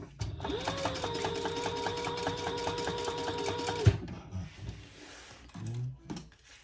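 Close, steady whirr and rapid ticking of a sewing machine stitching across a fabric wallet with pink thread, running for several seconds before a clunk as it stops, followed by quiet handling noises.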